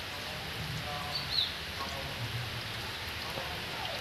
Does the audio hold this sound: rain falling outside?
yes